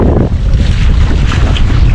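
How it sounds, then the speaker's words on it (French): Strong wind buffets a sailboat at sea as a storm nears, a loud, continuous rushing roar with gusty microphone rumble and the wash of waves underneath. "Et le vent augmente."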